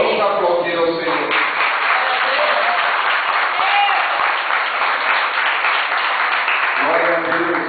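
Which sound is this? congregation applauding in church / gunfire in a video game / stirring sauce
congregation applauding in church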